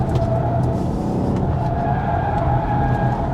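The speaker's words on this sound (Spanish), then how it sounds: "La rueda delantera ya están chillando, normal" Front tyres of a BMW X1 xDrive hybrid squeal steadily under hard braking, a sustained tonal whine over road and engine rumble, close and continuous with no talking.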